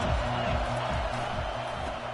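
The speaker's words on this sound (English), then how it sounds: "They challenge this crowd to bring the energy, and I'd say they're doing that." A college football stadium crowd roars with energy in a broad, sustained wall of cheering and noise, distant and unbroken for a couple of seconds.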